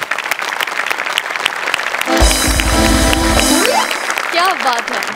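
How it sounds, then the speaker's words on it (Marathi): An audience applauds for an actor and writer on a comedy stage show: a loud burst of clapping that rises suddenly and lasts about a second and a half, with voices before and after it. "या संवेदनेसाठी मी उभा राहून टाळ्या"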